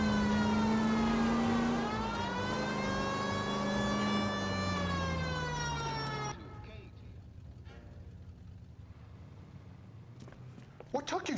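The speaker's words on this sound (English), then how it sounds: "I know y'all hear the sirens, bro." A police siren in the L.A. Noire video game wails loudly in long rising and falling sweeps, then cuts off abruptly, leaving quieter game noise and a few sharp thuds near the end.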